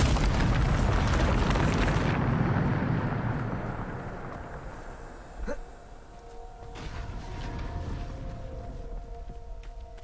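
A Bombarda spell explodes in Hogwarts Legacy, a loud roaring blast that fills the first two seconds and then decays into a rumbling tail, followed by fainter magical pops and tones.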